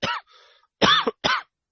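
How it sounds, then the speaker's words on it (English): Three harsh, close coughs from one person, the first and last short and the middle one longer, separated by a brief raspy breath. "I started coughing for some reason."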